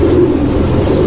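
Pigeons coo and stir inside a loft housing fancy breeds such as English Almond, a dense low murmur of cooing close by with steady background noise and no talking.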